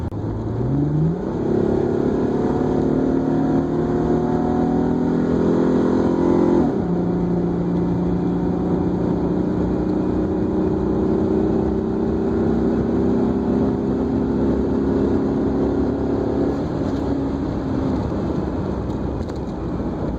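A slow car is driven at full throttle on a wet road, its engine straining loudly and steadily as revs climb, shifting gear and pulling on in a long, close drone with tyre hiss beneath and no talking.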